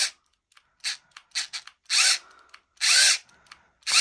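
A cordless power drill with a low battery, used on an RC kit differential build, whirs in short bursts of rising and falling pitch, the last two runs longer and stronger.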